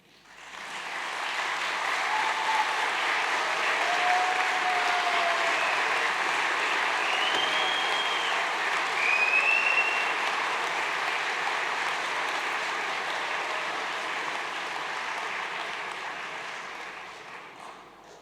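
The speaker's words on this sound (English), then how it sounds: "can you locate your friends and your family and give them a round of applause?" Graduates at an Open University degree ceremony in Gateshead applaud, a broad sustained wash of clapping from a large hall that swells in, holds steadily for many seconds and fades at the end.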